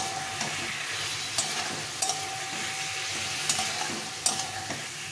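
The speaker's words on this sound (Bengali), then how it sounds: "এখন আমি এই আলু আর ফুলকপিগুলো ভেজে রেখেছিলাম এগুলো দিয়ে দেবো, দিয়ে আবার একটু ভালো করে মশলার সঙ্গে কষিয়ে নিই" Fried potatoes and cauliflower sautéing in spice paste sizzle steadily, close up, while a spatula scrapes and knocks against the pan every second or so.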